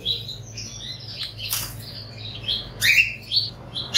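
Exotic aviary birds in Dhaka give several short, bright chirps and tweets, with a brief wing flutter in the middle and faint background hum, no voices.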